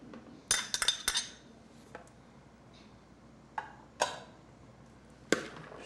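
Chopped green onion is stirred into a mixture, with a few sharp clinks and scrapes of a utensil against a bowl coming in scattered bursts over a quiet background.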